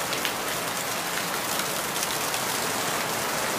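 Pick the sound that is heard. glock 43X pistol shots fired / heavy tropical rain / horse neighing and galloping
heavy tropical rain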